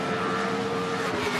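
NASCAR Cup Series race car engine roaring at Bristol during night-race qualifying, a single car's loud, steady high-revving drone holding constant throughout, with no talk.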